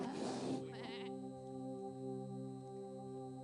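A single sheep bleats loudly and close at the start, a quavering harmonic cry lasting about a second, followed by a quieter tonal hum that stays steady on a cold night.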